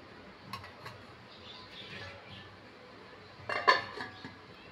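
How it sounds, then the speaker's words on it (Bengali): A pot of potato curry is stirred with a metal spoon, giving a few faint scraping clinks, then a lid is set on the pot with a brief louder metallic clatter, all fairly quiet and close. "একবার নেড়ে আমি ঢাকা দিয়ে এটা কিছুক্ষণ হতে দেব।"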